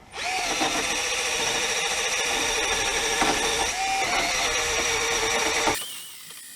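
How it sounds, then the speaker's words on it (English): A power drill with a wire brush whirs steadily with a gritty scrubbing texture as it cleans a car's metal brake part, running for several seconds before cutting off abruptly. "if you want really fast clean this surface, you can use the brush, drill"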